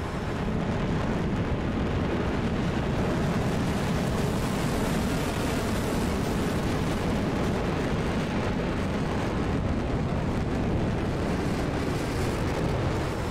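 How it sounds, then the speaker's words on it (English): Sidewinder 9M missiles firing in a flight combat video game, a dense, continuous roaring rush of noise that stays loud and steady throughout. "We are firing the Sidewinder 9Ms."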